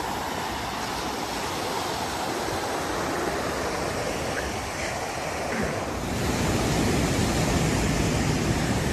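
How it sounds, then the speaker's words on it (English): Big ocean waves breaking at El Segundo beach, California, make a loud, constant roar of surf close by, with wind buffeting the microphone and no voices. "Some big waves."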